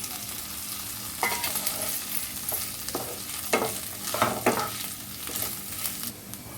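Prawns frying in a pan with onion and ginger garlic paste: a continuous crackling sizzle broken by several spatula scrapes and stirs, close up, with no talking.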